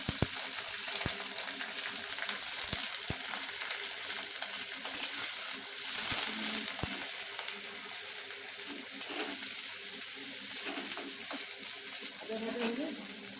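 Chopped onion and tomato fry in a pan with a constant close sizzle, punctuated by repeated clicking and scraping knocks of a spatula stirring the mixture.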